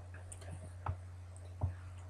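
Two sharp computer mouse clicks land about 0.75 s apart over a steady low electrical hum, close and fairly quiet, with no talking.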